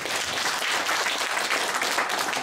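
Steady, dense applause from a seated audience at a traditional-market merchants' association workshop, loud and continuous throughout with no talk over it.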